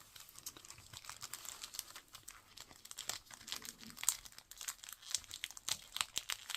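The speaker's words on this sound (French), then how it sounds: "on va enlever tous les petits scotch" Wrapping paper being unwrapped from an advent calendar gift, with small pieces of tape peeled away, a close, continuous run of crinkling and rustling with short crisp tearing snaps, no talking.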